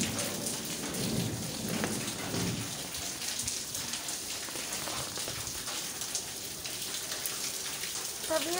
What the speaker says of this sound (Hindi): बारिश भी ज़्यादा हो रही थी तो आवाज़ सुनाई नहीं देगी बोल के